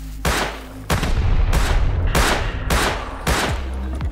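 Rapid bursts of gunfire in the survival game Rust during a PvP raid, loud and close, arriving in roughly five clustered volleys with brief gaps between them, no talk.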